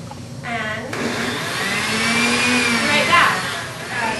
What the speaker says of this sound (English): And then we're just going to go ahead and turn that blender on.